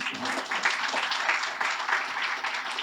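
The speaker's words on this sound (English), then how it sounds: "Let's give them a round of applause" An audience at a college career pathways summit gives a round of applause, a continuous wash of clapping at an even level throughout the short stretch.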